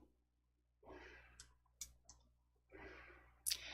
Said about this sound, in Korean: 바꾸기 클릭.